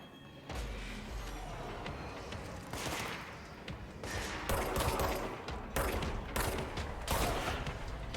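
Rapid bursts of gunfire from the video game Control, loud and close, with repeated sharp volleys and short pauses over a busy background.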